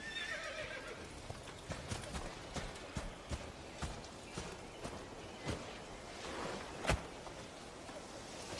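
Horse hooves clip-clop in a steady walking rhythm on ground in a fantasy TV series scene, with a horse whinnying near the start, moderately close and clear with no talking.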